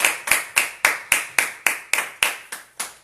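Church congregation clapping in a slow, even rhythm, about a dozen crisp, echoing unison claps spaced roughly a quarter second apart.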